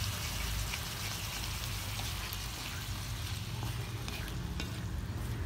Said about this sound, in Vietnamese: Rồi bây giờ mình xào cái này nè